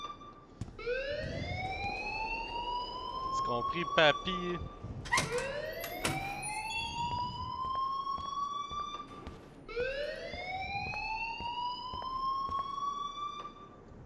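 An alarm in the Life is Strange game wails in repeated rising sweeps, three long swells in a steady cycle, loud and close, with a person speaking briefly over it midway.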